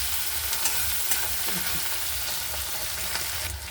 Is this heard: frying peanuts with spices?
yes